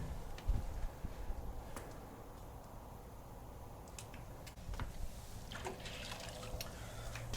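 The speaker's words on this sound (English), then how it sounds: "I'm just basically rinsing by sponge." Water running and splashing as a grill is rinsed with a sponge, a continuous wash of trickling liquid with a few sharper drips and knocks, close and moderately quiet.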